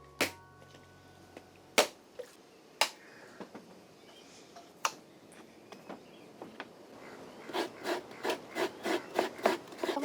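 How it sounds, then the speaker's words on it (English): Coconuts grated by hand in Tahiti: sparse sharp clicks and knocks at first, then a run of quick, evenly spaced scraping strokes, close and fairly loud. "So I just asked my husband to grate some coconuts because I need to prepare more monoi."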